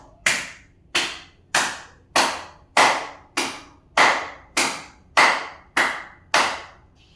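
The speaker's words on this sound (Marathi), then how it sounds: "त्यानंतर आपल्याला हाताची टाळी वाजवायची पुढे आणि मागे" Eleven sharp hand claps land at an even, unhurried pace, about one every 0.6 seconds, close and loud with brief decays, while a seated person does a gentle yoga loosening exercise, clapping forward and back.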